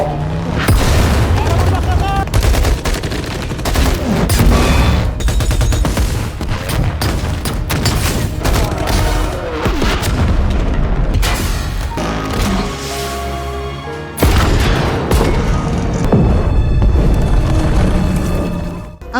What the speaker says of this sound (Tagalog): Ang bombang nakakabit sa sasakyan ay sumabog na nagdulot ng napakalaking pagsabog na bumalot sa buong lugar.